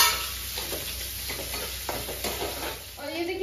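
Chopped onions fry in a pan with a pinch of asafoetida while being stirred, giving a soft, steady sizzle broken by scraping strokes, fairly quiet and close.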